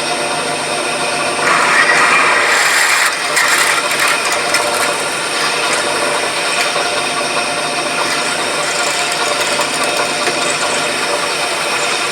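A power drill runs steadily and loudly throughout, with a constant whirring drone and slight mechanical rattle, no pauses.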